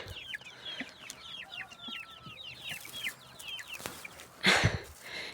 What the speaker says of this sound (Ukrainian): Наші курчата вже хочуть на вихід.